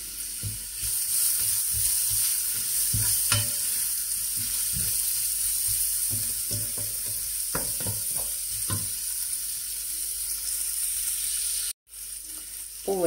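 Vegetables with bell pepper frying in a pan for spaghetti sauce, a loud steady sizzle with scraping stirring knocks scattered through it, cut by a brief dropout near the end.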